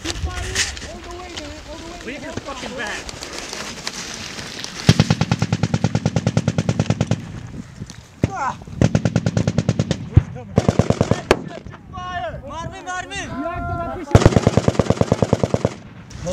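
An A-10 Warthog's machine gun in a video game fires in several loud, rapid bursts of a second or two each, separated by pauses, while someone talks excitedly over the action.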